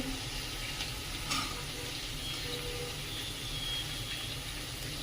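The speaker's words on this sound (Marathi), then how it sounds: "कांदा परततोय" Sliced onion and green beans with curry leaves and green chillies sauté in a pan for mushroom rice. A steady sizzle continues throughout, with a brief clatter of stirring near the middle and no speech.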